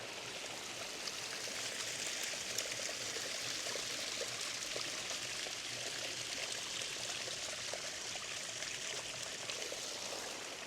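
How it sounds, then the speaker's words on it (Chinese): Small stream running down beside a road next to a lake, a steady, soft, continuous rush and trickle of water with no voices. "这道路两边还有一直流下来的小溪吧"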